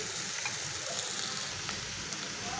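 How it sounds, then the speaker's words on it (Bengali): Dried Bombay duck (loitta shutki) being gently stir-fried in a pan, a soft continuous sizzle with faint scraping of the spatula, close and fairly quiet, with no talking. "এখন আমি একটু আলতো হাতে নেড়ে চেড়ে ভেজে নেব।"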